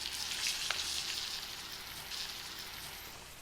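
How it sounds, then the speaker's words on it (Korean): A steak sizzles in butter in a frying pan, making a steady crackling hiss close by with small spits and pops, quiet overall and with no talking. "스테이크를 그냥 밀어 넣을게요"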